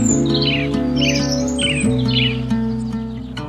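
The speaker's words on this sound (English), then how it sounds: "Tropical jungles, especially in Yunnan, resonate with the sound of cicadas and the song of brilliant" Bright chirping tropical jungle bird calls in Yunnan, China, repeat over a steady, loud layer of buzzing cicadas and droning tones, with a dense, humid outdoor feel.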